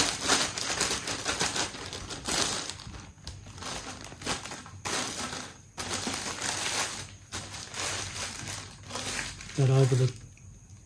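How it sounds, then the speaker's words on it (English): A plastic bag handled at close range in a workshop during a 2003 KTM 250 SX fork rebuild, bursts of crinkling and rustling with brief pauses, ending in a louder crunchy rustle. "I'm going to get a plastic bag."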